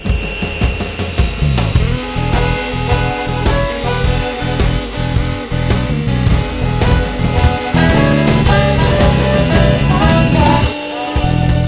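A table saw cuts a taper along a wooden leg blank held in a Micro Jig MicroDial tapering jig, a loud steady whine of the blade in the wood lasting several seconds, with no talk over it.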